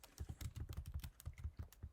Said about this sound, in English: as I start typing in MEDLINE